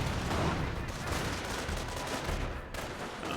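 Gunfire crackles in the Company of Heroes strategy game as Panzer Grenadiers fire on an engineer squad, a faint, dense, continuous rattle of small-arms shots lasting a few seconds.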